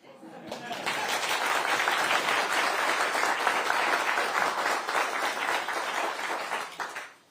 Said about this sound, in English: I was waiting for the applause to come down there.